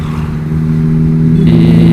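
A Mazda RX-8 rotary engine revs up through an Akrapovic exhaust, a loud, close, steady drone that rises and hardens partway through, with no talking over it.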